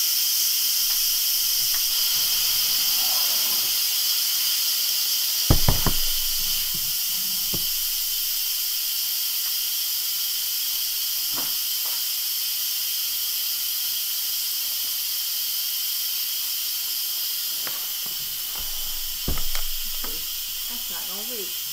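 An Instant Pot pressure cooker vents steam in a loud, steady hiss that runs throughout, with a few brief knocks and clatters in a kitchen.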